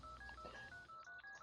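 A phone in a horror video game dials out with a rapid run of DTMF keypad tones, steady beeps one after another over low background noise, with no voices.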